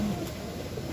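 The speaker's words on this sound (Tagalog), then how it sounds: "So ayun yung mga ibon natin, pakita ko sa inyo." Pigeons coo softly inside a dim loft, a low murmuring drone from the flock heard close by under a steady hum, with no speech.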